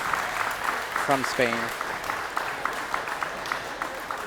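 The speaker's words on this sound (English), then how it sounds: "A round of applause for the players." Spectators at a table tennis tournament applaud the players, scattered, fairly distant clapping running throughout while a commentator's voice briefly speaks over it.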